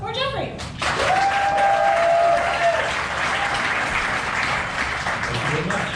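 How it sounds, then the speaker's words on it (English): Audience applause greets a speaker walking onstage at an Ignite Denver talk night, a dense steady wash of clapping from a sizable crowd that holds for the whole stretch with a brief whistle-like tone early on. "So please, round of applause for Jeffrey."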